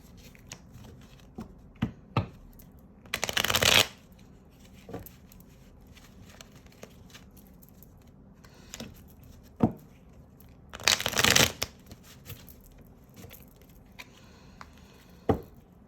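Brisk riffling bursts of a tarot clarifying deck being shuffled by hand, two longer shuffles separated by scattered soft taps and card clicks, close and fairly quiet with no speech.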